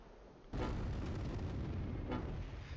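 Mortar fire in the WWII strategy game Close Combat III, set at Kursk: a sudden loud blast followed by a sustained heavy rumble, with a second burst swelling near the end.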